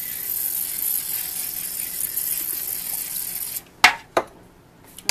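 Cooking spray hisses steadily onto a baking pan for about three and a half seconds, then stops, followed by a couple of sharp clanks and taps close by.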